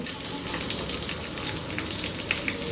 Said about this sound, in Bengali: চুলার জালটা কমাই দিয়ে আমি মিডিয়াম হিটে ভাজতেছি এখন